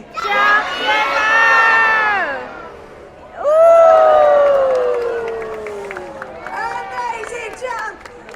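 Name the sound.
crowd of children shouting and cheering at seal show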